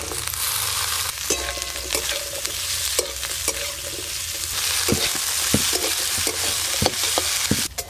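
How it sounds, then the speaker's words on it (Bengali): Potatoes cut into long strips and onions fry in a pan, a steady loud sizzle running throughout with repeated scraping stirs of a spatula, no talk. "আলু আর পেঁয়াজ একটু ভাজা ভাজা হয়ে গেছে"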